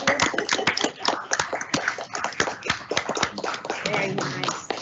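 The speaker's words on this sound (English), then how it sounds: "Clap for those." Board meeting audience clapping steadily for several seconds, dense overlapping hand claps close by, with voices talking underneath.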